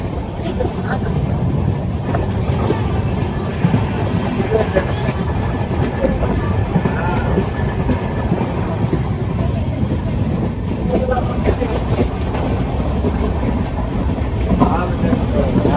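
A passenger train rumbles steadily between Latur and Pune, a loud continuous roar with faint rhythmic rattling heard from inside the carriage, with people talking over it.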